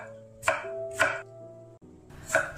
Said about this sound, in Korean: 오이는 잘 씻어서 적당히 썰어 믹서에 넣어 주고요